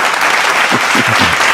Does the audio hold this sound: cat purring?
no